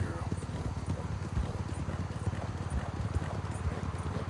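A mare's hooves clip-clop at a steady walking rhythm in Red Dead Redemption 2, close and moderately loud, with talking running over the footfalls.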